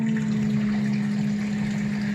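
A sump pump in a pit during a creek flood pushes out floodwater with a loud, steady rushing gush and a constant motor drone, heard close up and without any speech.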